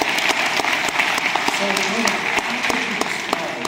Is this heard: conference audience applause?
yes